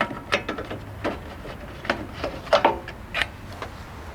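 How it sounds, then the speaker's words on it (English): Plastic clicks, creaks and rubbing as the plastic cover comes off an NA Miata headlight assembly, a series of short irregular snaps close up with no talk. "And now the plastic cover can come off."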